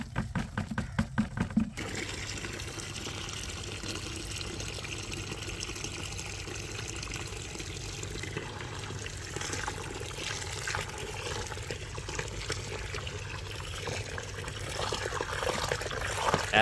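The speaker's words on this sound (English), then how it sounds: "soaking it in water" Water poured over crushed charcoal to soak it, a steady close trickling and splashing pour that runs continuously after a few brief knocks at the start, moderately quiet with no voices.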